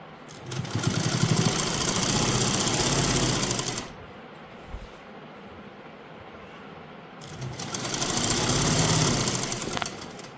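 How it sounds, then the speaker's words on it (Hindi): A sewing machine stitches the side seams of plazo pants in two loud, steady bursts of rapid whirring, separated by a quieter pause of a few seconds. "पूरा ऊपर से लेके नीचे तक दोनों साइड सिलाई लगा देंगे हम"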